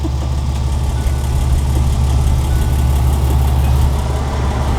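A BMW car engine idles steadily with a low, even rumble, close and constant throughout, with no voices heard.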